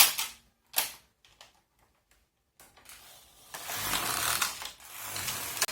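A knitting machine set to circular knitting, its carriage pushed across the needle bed with clattering mechanical rasps, a couple of short strokes followed by a longer sliding pass, close and distinct with no talk.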